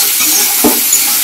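Potatoes and spices sautéed in a pan with a little water, giving a steady close hiss of sizzling and one brief stirring scrape, with no talk.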